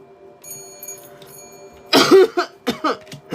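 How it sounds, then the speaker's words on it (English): Several harsh coughs burst out close to the microphone in a quick cluster, over a quiet background with a faint ringing tone. "This cough needs to piss off."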